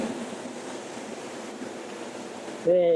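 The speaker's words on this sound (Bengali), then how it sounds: "ঢেউ আসতেছে" Sea waves wash in steadily along Kuakata beach, a continuous broad roar of surf with wind, then cut off near the end where a brief tonal sound appears.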